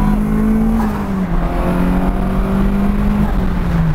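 An SR20-powered Datsun 510 on 185/60 14-inch wheels pulls hard in a passing gear, its engine note loud and close from the cabin as the revs climb steadily, dip at a shift and build again, with no talking.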